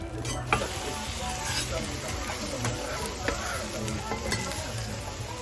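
An okonomiyaki savoury pancake sizzles steadily on a hot griddle after being flipped, with close, continuous frying crackle and a few scraping and clinking touches.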